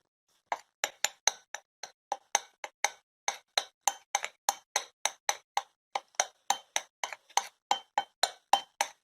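A utensil stirs salt into a Coca-Cola marinade for pork chops, clinking against the container in a quick, regular run of about thirty sharp taps, close and clear with no talking.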